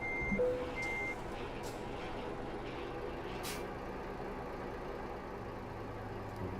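A truck reversing in the driving game Euro Truck Simulator 2 gives a few steady, evenly spaced beeps at the start over a constant low engine rumble, then a faint hiss of air brakes.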